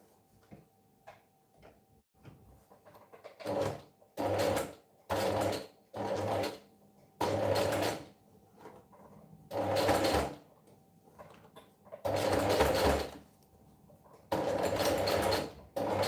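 A sewing machine stitching over a pin, running in a series of short loud bursts of rapid mechanical whirring, separated by brief pauses, close by and quiet between runs.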